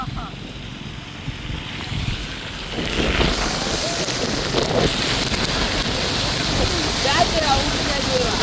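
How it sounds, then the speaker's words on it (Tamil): Strong wind and rain lash a seashore, a continuous roaring wash of gusts against the microphone that grows louder and denser after the first few seconds. "அவ்வளோ காற்று மழையும் பெய்யுது"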